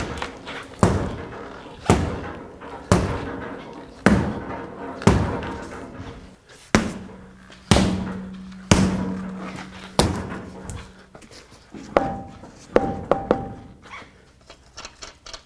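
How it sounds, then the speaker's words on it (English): A rubber mallet strikes the back of a wheel on a 1997-2003 Ford F-150 pickup while its outer tie rod is replaced, producing a dozen or more loud, hollow thuds at roughly one-second intervals, close and repeated, with a faint hum between blows. "use a rubber mallet and hit it from the backside"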